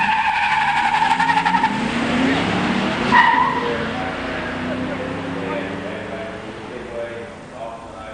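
A 1987 Buick Regal automatic and a 1987 Mustang 302 five-speed launch side by side in a drag race, giving a loud roar with tire squeal that fades as the cars pull away, while an announcer talks over it.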